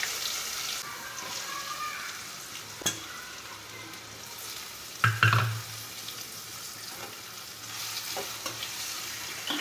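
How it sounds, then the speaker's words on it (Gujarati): Diced potatoes drop into hot oil tempered with cumin and asafoetida, setting off a steady close sizzle and fry with a few stirring clatters and a sharp spatter burst midway. "હિંગ નાખી અને આજે બટેટા આપણે સમાર્યા છે એ વઘારી નાખવાનું."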